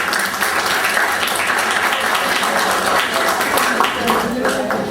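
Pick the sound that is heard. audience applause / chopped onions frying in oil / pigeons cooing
audience applause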